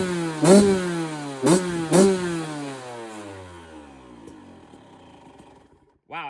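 A small dirt bike engine revs up three times in quick succession, each sharp blip rising in pitch and then easing back to a steady idle that slowly fades.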